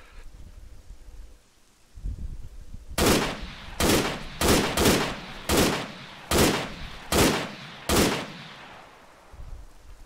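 Arma 3 gunfire comes as eight loud, sharp shots in an uneven, quick series, close by, with quieter background noise between them and no talk.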